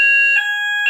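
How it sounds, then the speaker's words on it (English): A fire alarm sounds inside a building, a loud steady electronic tone with sharp harmonics, swelling in two brief bursts against a continuous ringing. "that's a fire alarm in my building."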